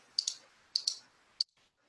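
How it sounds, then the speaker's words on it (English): Computer keys click sharply in small clusters, two quick taps, a pause, two more, then a single final press, close and clear against near silence with no voices. "I'm typing stuff in the wrong spot"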